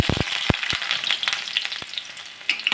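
Onions go into a pan of hot oil with browned garlic and spices over a low gas flame, giving a steady crackling sizzle with sharp pops and stirring clicks, close up and with no talking.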